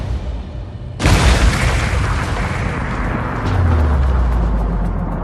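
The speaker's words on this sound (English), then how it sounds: "We wanted to recreate a similar type of explosion." A recreated bombing blast set off with the same kind of box and chemicals erupts in a sudden loud boom, followed by a long rumbling roar and debris noise that lingers for several seconds.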